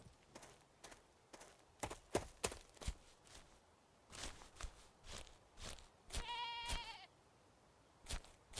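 A goat gives one clear wavering bleat amid scattered footstep-like thuds and taps, fairly faint and somewhat distant.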